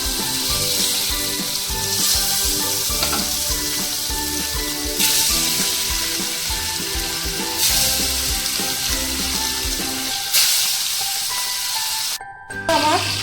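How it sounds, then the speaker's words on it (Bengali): Marinated katla fish pieces drop into hot oil and sizzle loudly and steadily for several seconds, a dense crackling hiss that briefly thins and dips near the end. "তেলটা গরম হয়ে গেছে এবার মাছটা দিয়ে দিলাম"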